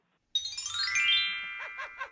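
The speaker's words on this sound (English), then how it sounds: "Hank, you don't need to hit the dumb chime sound effect every time I ask you a question" A bright chime sound effect rings out during a prank phone call, a single shimmering bell-like tone that swells in and slowly fades, followed by a short tinkling tail.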